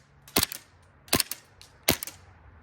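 A USHOT TP22 airsoft pistol fires three sharp, snappy shots at roughly even intervals, each a close crack with a brief mechanical clatter, under low steady background noise.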